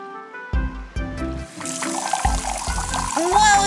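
Cartoon water gushes from a tap fitted onto a hose, a bright pouring splash that builds over playful music with short bursts and rising tones.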